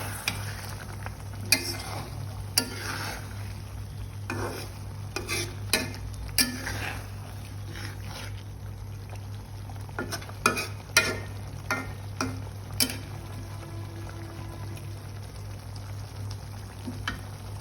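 Prawns and green chilies fry in a pan, a steady sizzle running throughout with irregular scraping stirs of a spoon against the pan, close and alone with no talking.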